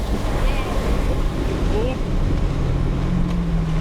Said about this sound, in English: the track is just abundant with mud puddles and a whole lot of fun to splash in